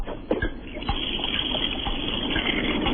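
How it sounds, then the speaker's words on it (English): A washing machine running with water, heard as a steady, muffled rush and slosh of flowing water through a phone line, with a few soft knocks near the start. "That was the washing machine."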